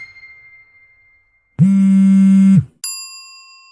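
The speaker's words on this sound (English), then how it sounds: "A notification, a message." An electronic notification alert sounds: first a faint thin tone, then a loud one-second buzzing beep, followed by a bright ringing chime that rings out and decays.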